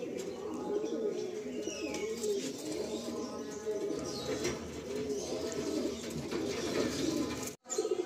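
Flying pigeons in a loft at Garia, Kolkata, coo steadily in a dense, overlapping chorus, with faint chirps and a moment of rustling near the end.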